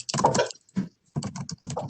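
Bursts of computer keyboard typing break into an online community roundtable meeting: quick clusters of clacking keystrokes separated by short pauses, fairly close and clear, with no talk over them.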